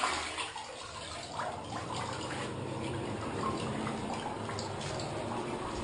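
Water sloshing and splashing in waves around a fan heater submerged in water, a continuous rushing, bubbling wash at moderate loudness.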